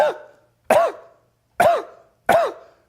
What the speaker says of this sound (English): here's a little bit of the cough